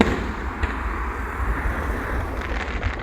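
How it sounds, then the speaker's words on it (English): A fireworks display at Rhyl sounds as distant, muffled thumps and bursts scattered over a low rumble. Wind noise buffets the microphone, and no one speaks. "it's definitely some good fireworks display"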